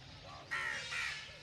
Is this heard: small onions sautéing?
no